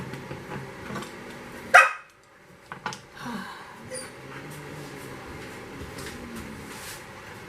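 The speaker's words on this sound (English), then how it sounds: "as you can hear, my dogs are messing with the cat." A dog gives one sharp bark, then a couple of softer yips follow, against a low steady background hum.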